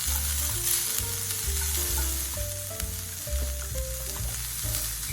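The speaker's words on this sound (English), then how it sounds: "Add the sliced onion. Saute the onion until soft," Sliced onion sautés in a thoroughly heated frying pan with cooking oil, a steady broadband sizzle running throughout while soft background music plays over it.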